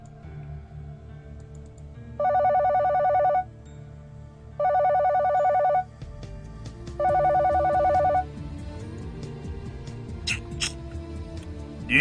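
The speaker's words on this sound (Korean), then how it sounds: "전화벨이 울렸다." A telephone rings three times in steady, evenly spaced trilling bursts, followed by faint clicking and shuffling sounds.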